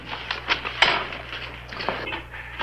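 Silverware and dishes being handled and counted in an Old West setting, with scattered light metallic clinks and rattles at close range against a steady low hum.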